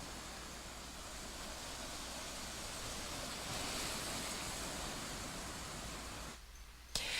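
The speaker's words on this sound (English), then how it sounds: "you can hear the thunderstorm is definitely there, and you can hear the waves" Ocean waves from an Android relaxation sound app, heard as a soft, continuous broadband wash of surf at low level. It cuts off briefly near the end.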